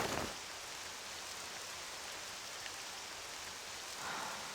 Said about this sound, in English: You've avoided the rain, but the poison's in the air as well